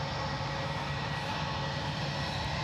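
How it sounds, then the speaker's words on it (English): A British Airways airliner takes off from Edinburgh Airport, bound for London, its jet engines giving a steady, broad roar that holds level and fairly close throughout with no voices. "British Airways about to take off to Heathrow."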